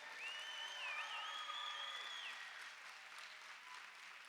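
Crowd applause at a junior roller derby bout, a steady wash of clapping and cheering heard from a distance at low level, with a whistle-like tone over it early on.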